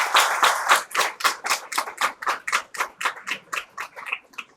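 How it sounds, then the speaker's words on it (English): Convocation day audience at a nursing college clapping in unison, a steady rhythmic beat of about fourteen sharp claps that gradually softens toward the end. "Please give a big clap for her."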